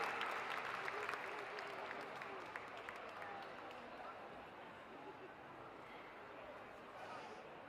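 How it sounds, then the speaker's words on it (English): An indoor audience at the Discover Dogs 2022 dog agility show cheers and claps in sustained applause, with crowd babble and scattered whoops all the way through. "start cheering them home"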